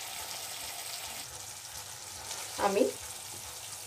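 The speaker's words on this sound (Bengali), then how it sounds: "নুডলসের জলটা এর মধ্যে অ্যাড করে দিচ্ছি।" Leftover noodle-boiling water poured into a pan of thupka gravy, a brief soft splash and sizzle near the end over a steady background hiss of frying.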